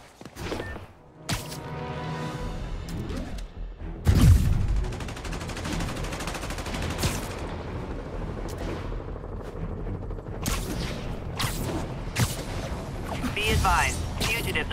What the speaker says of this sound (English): Fugitives are opening fire from stolen vehicles